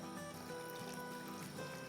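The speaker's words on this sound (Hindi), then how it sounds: "ये गरम गरम पानी डाल रहे हैं" Hot water poured into pav bhaji cooking in a pan, a steady continuous pouring and splashing wash with no breaks, close by and fairly soft.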